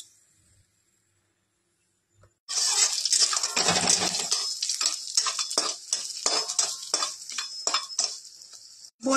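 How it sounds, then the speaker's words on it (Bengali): After a near-silent start, bori lentil dumplings drop into hot oil and burst into a loud, bright sizzle, with clinks and scrapes of a utensil stirring them through the rest of the frying. "প্রথমে আমি বড়ি ভেজে নেব।"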